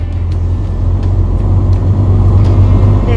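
A truck loaded with 480 beehives drives along an Australian road, its engine giving a steady, loud low rumble with road noise throughout and no talk.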